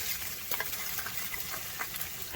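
Bagel halves crisp and brown in a frying pan over medium heat, giving a soft, steady sizzle with faint crackles, fairly quiet and without speech.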